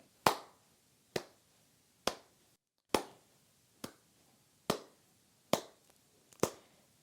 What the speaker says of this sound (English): you can clap your hands to maintain a steady beat